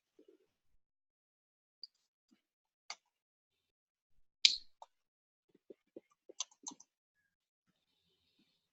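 Sparse, quiet clicks and taps of typing on a computer keyboard, scattered irregularly with long silent gaps and a small cluster of keystrokes toward the end.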